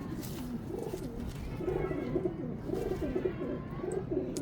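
Pigeons kept for breeding coo softly in a loft, with low, rolling calls repeating in a steady rhythm over faint background noise.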